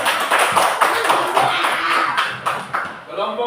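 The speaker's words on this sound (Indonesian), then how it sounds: "Tepuk tangan dulu, tepuk tangan" Group clapping, fairly loud and close, with rhythmic bursts and voices talking over it.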